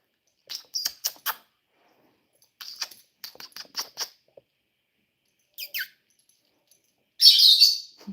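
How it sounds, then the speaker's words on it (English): Birds give short, high chirps in scattered clusters, close and clear in a quiet room, ending with a louder hissing burst. "the birds tweet to it too because they like that noise too"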